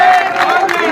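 A political rally crowd in Shujalpur, at a Congress party joining event, bursts into loud cheering and clapping, a brief, close, energetic swell of voices and applause.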